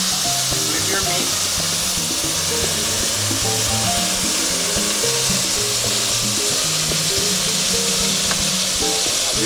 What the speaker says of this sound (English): Once you got this nice color, flip your meat.